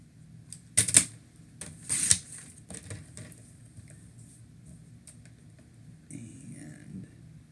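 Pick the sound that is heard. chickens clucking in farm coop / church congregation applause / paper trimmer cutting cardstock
paper trimmer cutting cardstock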